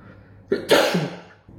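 A single loud, close sneeze from a person during a nasal swab antigen test at home, a quick sharp inhale followed by an explosive burst that fades out.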